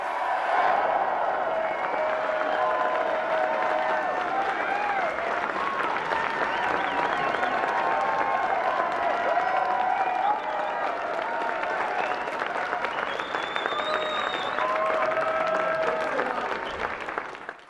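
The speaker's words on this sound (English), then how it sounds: "please give it up for Congressman Justin Amash, ladies and gentlemen" A large crowd at a political rally in Hudsonville, Michigan gives a congressman a long, steady round of loud applause with some cheering, sustained for many seconds before fading at the end.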